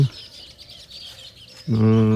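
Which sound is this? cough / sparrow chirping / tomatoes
sparrow chirping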